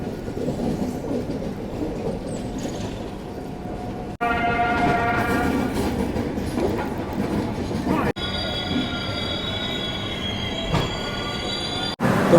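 The Ajmer–Sealdah SF Express runs through a station without stopping, a continuous rumble of wheels and carriages with rhythmic clatter, followed by high, sustained metallic squealing from the wheels as it rolls on.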